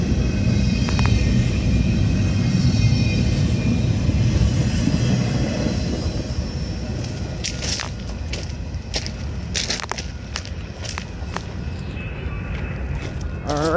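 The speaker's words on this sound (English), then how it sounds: "Alright, there's the train." A Canadian Pacific train rolls past close by, a steady loud low rumble of wheels and engine with sharp metallic clanks and squeals breaking through in the second half.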